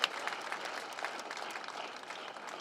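Audience applause at a political rally, a steady, dense wash of clapping from a large crowd that holds evenly throughout without talk over it.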